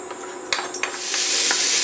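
Mirepoix for risotto hits hot oil in a pan over fairly low heat, a couple of sharp clacks and stirring scrapes giving way to a rising, steady sizzle.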